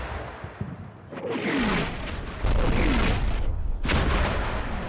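Artillery fire in the Combat Mission wargame lands as heavy booms, with a couple of loud blasts and rolling rumble filling the few seconds.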